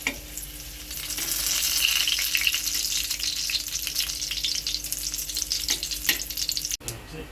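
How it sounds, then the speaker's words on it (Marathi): Stuffed green chillies roasting in a pan over low heat, a steady close sizzle and crackle with a few scraping stirs, no talking heard. "मिरच्या परतूया. आता एका साईडने शेकून घेतात व्यवस्थित."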